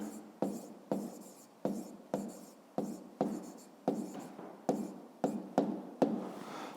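A pen writes down the answer to a fifth-grade math exercise in a notebook, with a dozen or so short, regular scratching strokes close up and no talking.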